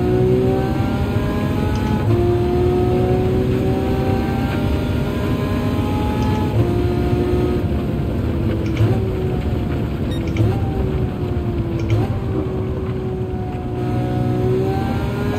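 Lamborghini Veneno engine in Gran Turismo 7, heard from the driver's seat: a steady, loud, close engine drone with rising and falling revs and repeated gear-shift steps throughout, no voices.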